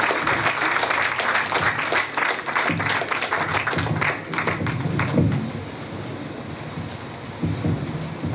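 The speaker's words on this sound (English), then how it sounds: "So round of applause for him," Audience applause at a Nigerian Television Authority grand-finale ceremony marking sixty years of television in Africa, a dense, steady wash of clapping that fills the hall, broad and washy throughout and easing slightly toward the end.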